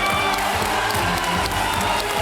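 A studio audience at a Hindi quiz show bursts into loud, sustained applause and cheering, a dense wall of clapping with whoops throughout.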